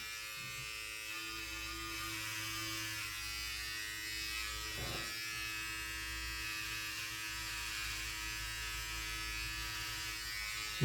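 Remington Multigroomer 4100 electric trimmer running without a clip guard while trimming hair: a steady, close, buzzing motor drone for the whole stretch, with a faint brief rustle partway through and no talk.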